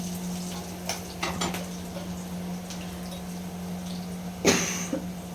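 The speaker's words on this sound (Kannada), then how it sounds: "ನಂಗೆ ಯಾಕೋ ಕೆಮ್ಮು" A single sharp cough rings out near the end, with a few fainter throat sounds earlier, over a steady low hum and faint frying noise in a home kitchen during cooking.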